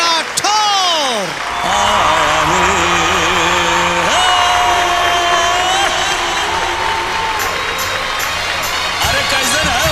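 A live audience at a Holi-special Bhojpuri singing reality show applauds and cheers loudly and steadily, with music and tones from the stage playing over the crowd throughout.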